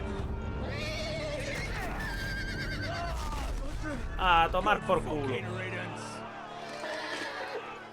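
Horse in a Game of Thrones video game gives a sharp, fairly close whinny midway, set over constant game ambience and overlapping excited talk.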